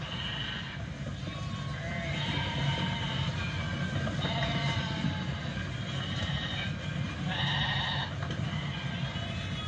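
A flock of sheep bleats repeatedly over a dense rumbling, clattering background of a railway car, the animals being led toward slaughter by a Judas goat, with the bleats rising and fading through the steady noise.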